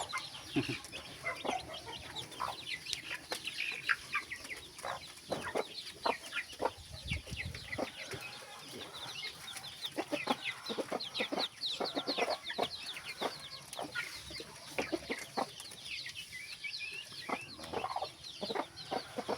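Chickens cluck steadily in a busy farmyard in the Philippines, many short calls overlapping near and far, with a constant background hum and no talking.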